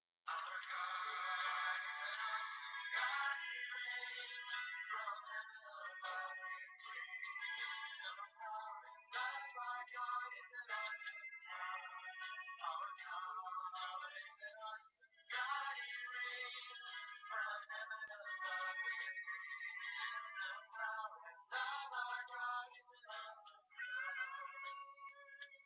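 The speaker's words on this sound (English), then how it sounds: "The next one is a new ringtone called Awesome God." A cell phone ringtone called Awesome God plays a bright, thin electronic melody at a steady moderate level, its tuneful phrases repeating for over twenty seconds with short gaps between sections.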